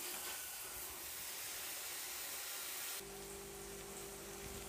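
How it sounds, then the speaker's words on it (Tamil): Ginger garlic paste sautés over a low flame for a mushroom biryani, giving a faint, steady hiss of gentle sizzling that shifts slightly partway through. "இஞ்சி பூண்டு பேஸ்ட்டை வந்துங்க குறைவான தீயில் வச்சு பச்சை வாசனை போக வரைக்கும் நல்லா வதக்கணுங்க."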